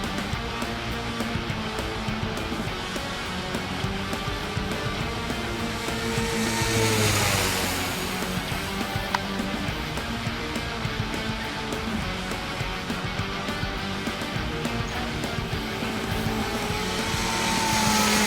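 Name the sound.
RC fixed-wing airplane motor at full throttle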